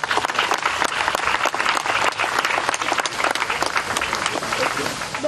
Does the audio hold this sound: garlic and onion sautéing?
no